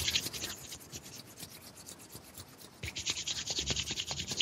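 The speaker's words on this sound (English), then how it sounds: "basically rub your palms together to create some heat" Palms rub briskly together to build warmth, making a close, soft, brushy swish in quick repeated strokes that eases off in the middle and then picks up again.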